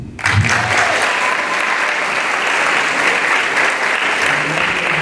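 Loud, sustained applause fills a school valedictory hall for an award recipient, a thick continuous roar of many hands clapping close by, steady throughout with no voices on top.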